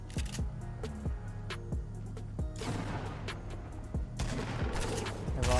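Rapid gunfire from the video game Fortnite fills the clip, with sharp repeated shots, some in quick bursts, dense and loud throughout, and no talking.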